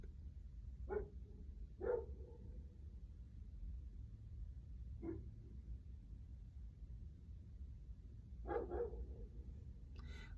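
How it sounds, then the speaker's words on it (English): A dog barks outdoors in short, faint, distant bursts, two close together, one alone, then a quick double, over a low background rumble. "The dog is literally barking at nothing."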